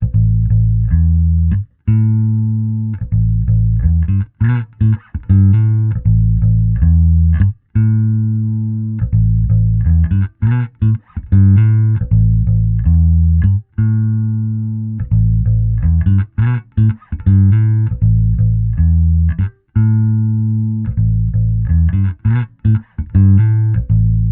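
Electric bass guitar playing a riff of low, sustained notes, with faint squeaky string-slide noise between some notes.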